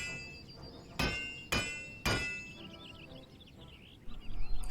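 Three evenly spaced metallic clangs ring out as a kettle is hammered in a Final Fantasy XIV cutscene, each strike leaving a bright ringing decay, with birdsong and a rising rumble after.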